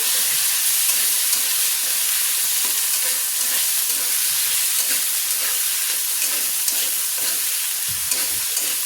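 Green chillies, ginger and tomato fry in a pan with a continuous bright sizzle and hiss, broken by faint irregular stirring scrapes throughout.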